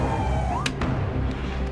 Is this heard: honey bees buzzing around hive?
no